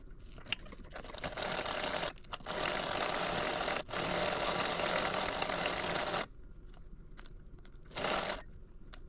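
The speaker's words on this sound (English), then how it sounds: "we're ready to top stitch this side" A sewing machine top stitches fabric for a wristlet with card pockets, running in steady sustained bursts broken by brief pauses, close and loud, with no talk.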